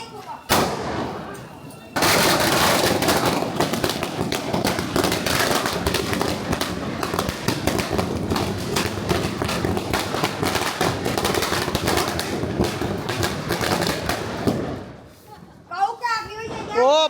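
Diwali firecrackers burst nonstop at a Gujarati family celebration, a dense, loud barrage of rapid cracks and bangs going on for about twelve seconds before thinning out, with people talking and exclaiming at the edges.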